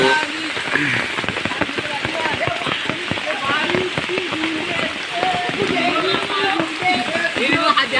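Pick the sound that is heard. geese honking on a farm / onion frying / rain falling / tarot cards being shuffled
rain falling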